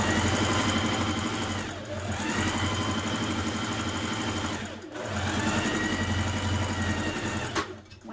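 A sewing machine stitches the side seam of a shirt-dress sleeve in long continuous runs, its motor whirring steadily with brief pauses between bursts of stitching.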